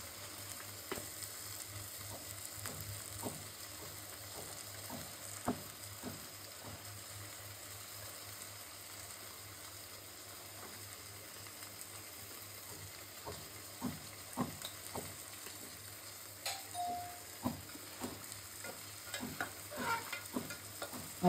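Eggs sizzling in a pan of egg korma masala, a faint continuous frying hiss with irregular light scrapes and clicks of stirring throughout, no voices.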